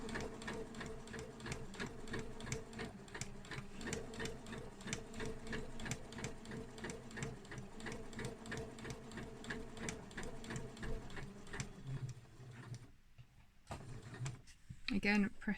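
A home sewing machine stitches fabric for a zip purse in rapid, even mechanical bursts, pausing near the end as a person speaks nearby.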